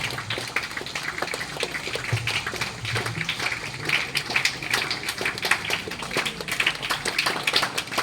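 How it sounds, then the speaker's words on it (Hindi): An audience at a ceremony claps continuously, a thick patter of many hands held at an even level for several seconds, with no speech on top. "ताली बजाते रहिए।"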